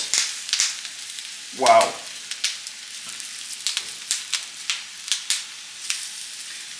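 Potatoes sizzle in a pan with a steady crackling fry while a spoon stirs them in irregular scraping taps, close and clear; a voice briefly exclaims partway through.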